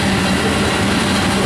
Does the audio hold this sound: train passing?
yes